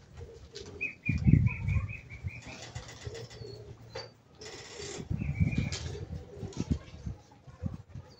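A pigeon flaps its wings in flight in several fluttering bursts. Chirps and coos come from other birds nearby.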